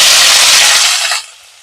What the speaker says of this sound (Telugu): ఆయిల్ వేడైందండి ఈ ఈ ఉల్లిపాయలు పచ్చిమిర్చి కరివేపాకు ఇందులో వేసేసుకున్నాం